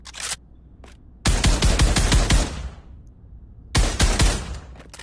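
Rifle fire in the VR shooter Pavlov, with rapid bursts of loud gunshots, each burst a fast string of cracks, separated by brief pauses and a single shot at the start.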